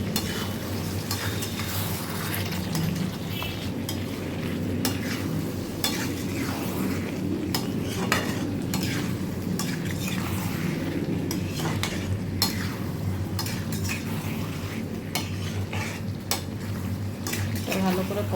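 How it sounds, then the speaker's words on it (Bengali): Minced meat and young jackfruit stir-fried in oil in a pan for a Bengali keema dish, a continuous close sizzle with repeated stirring scrapes and occasional utensil clinks against the pan. "এঁচোড়টাকে দিয়ে আবারও ভালো করে কষিয়ে নেব"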